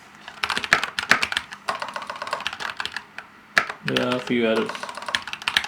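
Rapid clicking of keys on a computer keyboard during a coding session, bursts of uneven taps in close succession, with someone speaking briefly near the end.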